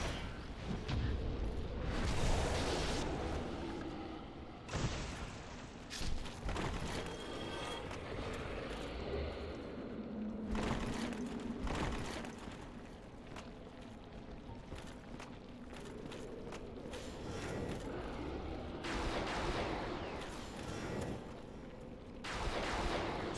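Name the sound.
explosions in Dark Souls Remastered video game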